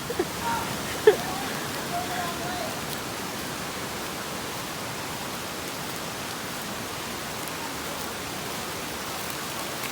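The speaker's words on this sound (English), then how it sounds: "It's raining, so" Steady rain falls beside a river in Jamaica, a dense even hiss that holds for the whole stretch, with a brief faint thump near the start and no talking.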